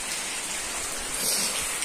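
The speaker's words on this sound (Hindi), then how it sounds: "सुबह सुबह ही बारिश, देखो बारिश कितनी बारिश लगी हुई है।" Heavy morning rain falls outside a house, a steady, dense hiss of drops hitting surfaces, loud and continuous with no talk over it.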